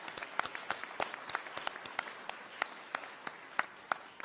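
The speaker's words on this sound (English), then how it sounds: "And so I'd like to give you a round of applause." An audience at a staff awards ceremony claps steadily, a dense patter of many hands with sharp individual claps standing out, fairly close and with no talking.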